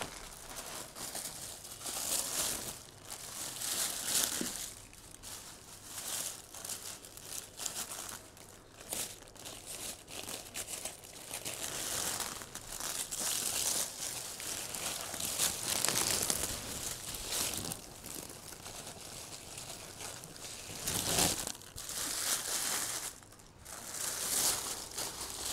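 Plastic Ziploc bag packaging crinkles and rustles continuously while a bag is unwrapped, close and fairly loud, with irregular crumpling surges throughout.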